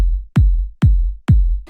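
Four loud, evenly spaced EQ-processed kick drum hits, each a sharp punchy thump with a deep booming low tail, with nothing else playing.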